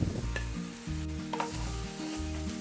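Onion and capsicum sizzle steadily in a hot pan for paneer burji, with a few soft scraping stirs breaking through the continuous frying hiss, close and fairly loud with no talk.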